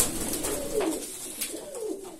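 Pigeons cooing softly in a loft, several low coos repeating across the moment with faint rustling, close and alone without talk.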